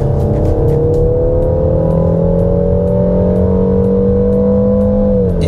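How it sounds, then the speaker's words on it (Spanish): A Peugeot 3008 SUV at full throttle in Sport mode, its engine droning loud and steady with the pitch climbing slowly before easing near the end, heard from inside the cabin with no talk. "Lo primero que voy a hacer es la aceleración. Lo pongo en modo Sport. Vamos a fondo"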